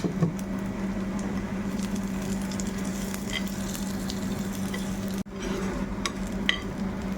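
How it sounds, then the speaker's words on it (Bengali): Four or five garlic cloves fry in a pan with half-browned chopped onions, a steady close sizzle throughout with faint utensil clicks and a brief dip near the end. "আমি চার পাঁচ কোয়া রসুন নিয়েছিলাম সেটা দিয়ে দিচ্ছি এটা একটু ফ্রাই করবো"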